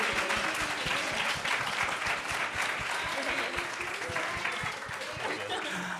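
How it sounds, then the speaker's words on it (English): An audience at a health behavior and health equity symposium gives a round of applause for the speakers, a dense, even burst of many hands clapping that fills the room and sustains throughout, with faint voices underneath. "Can we get another round of applause,"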